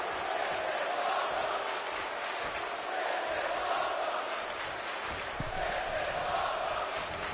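A dense wrestling crowd roars steadily at an indoor independent show, a continuous wash of voices with a faint rhythmic pulse of chanting throughout.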